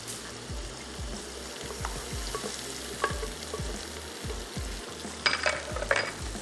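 A spice mixture goes into mutton and potatoes frying in a pot, producing a steady close sizzle with faint stirring clatter and some sharper bubbling and crackling bursts toward the end.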